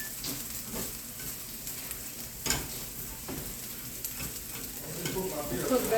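Dough fries in a hot pan, a steady crackling sizzle with brief stirring scrapes, close and moderately loud, growing slightly busier toward the end, with no talk.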